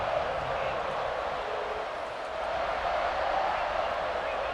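Loud, steady crowd roar from fans of the NWU team in the College Football 26 video game, a dense continuous wash of cheering and singing along that holds for several seconds with a slight dip midway.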